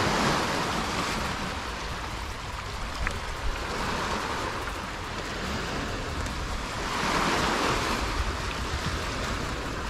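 Surf rolling onto the shore at Pantai Cemara Asri beach, a steady broadband wash with swells rising and falling, continuous and fairly loud with wind noise, no talking.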